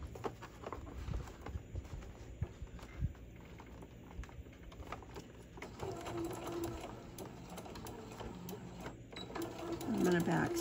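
A sewing machine runs in short bursts and then longer, steadier stitching while backstitching the seam of a small box-style zipper pouch, quiet and close, with a person talking over it.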